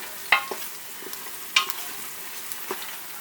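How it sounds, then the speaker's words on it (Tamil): Onions sautéed in oil to the fried stage for mutton biryani give off a low, crackling sizzle, with a couple of sharp spatula scrapes and light stirring taps against the pan, close by. "இந்த வெங்காயம்லாம் வந்து நல்லா வந்து இந்த எண்ணெயில் வந்து வதங்கிருச்சு, ஒரு ஃப்ரைட் ஆனியன் ஸ்டேஜுக்கு வந்துருச்சு."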